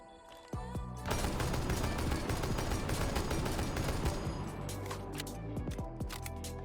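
Semi-automatic weapon in a video game fired in rapid bursts, dense overlapping sharp shots forming a sustained loud rattle that thins out toward the end.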